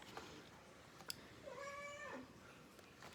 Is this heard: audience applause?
no